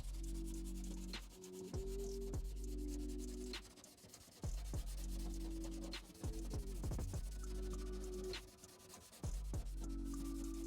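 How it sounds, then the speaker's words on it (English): Red Scotch-Brite abrasive pad scuffing the bodywork of a 2011 Mustang GT before body filler, a close, steady back-and-forth rubbing in repeated strokes with brief pauses between passes. "And a red Scotch-Brite pad. And we'll get that on there. And we're just gonna scuff up this whole area."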